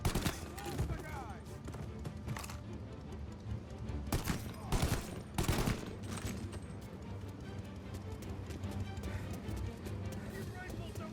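Rifle gunfire crackles in a shootout in the video game Mafia: Definitive Edition, with sharp loud bursts clustered near the middle over constant battle noise and shouted voices.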